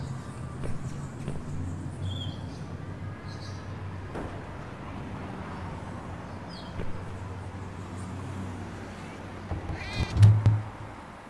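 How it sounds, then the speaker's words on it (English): A cat meows once near the end of a scene in the 2016 remake of the horror adventure game Downfall, a short, fairly loud cry rising over a low, steady drone of game ambience. "Aw, you're such a lovely pussycat."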